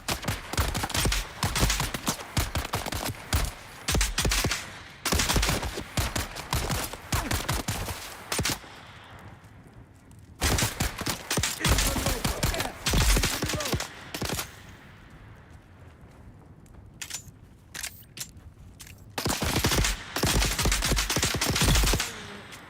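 Bursts of automatic gunfire in the survival video game Dune Awakening, loud rapid volleys broken by short pauses and quieter stretches, repeating throughout with no voices heard.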